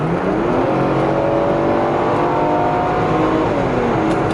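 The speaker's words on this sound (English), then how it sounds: "I'm going to give you the downshift." Mercedes W124 station wagon on the move, its engine note sweeping through a downshift under a steady, close cabin drone of road and engine noise.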